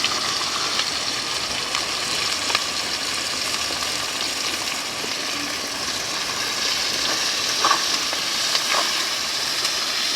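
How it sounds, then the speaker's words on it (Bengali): Onions fry in oil for a village-style mutton curry, giving a continuous, even sizzle that holds steady throughout with faint stirring scrapes now and then. "এখন আমি মাংস করার জন্য পেঁয়াজগুলো ভেজে নিচ্ছি।"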